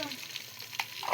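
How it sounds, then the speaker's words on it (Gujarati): Chopped onion crackles in hot oil as a tempering for vegetable biryani, a brief, close sizzle with faint stirring scrapes. "અત્યારે ડુંગળી નાખી અને વઘાર ચાલે છે"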